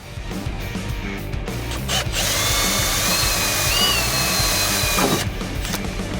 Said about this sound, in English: I'll then drill a new hole where that goes